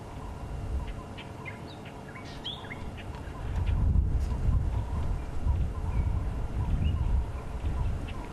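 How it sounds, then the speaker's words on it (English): Several Cape turtle doves coo softly in the distance over a steady low rumble of background noise, with a few other scattered bird calls. "Some Cape turtle doves calling nearby"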